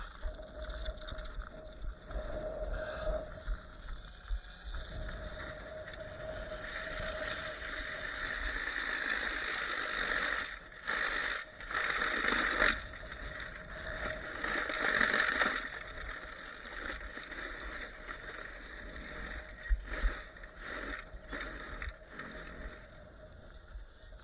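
A snowblower runs and throws snow on an icy, windy winter day, its moderate engine drone rising and dipping unevenly with gusty, washing noise around it.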